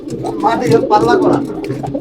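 A pair of racing pigeons coo close by in short rolling phrases, mixed with a voice talking over them.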